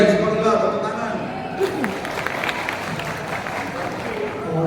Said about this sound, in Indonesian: BCM Sekolah, tepuk tangan.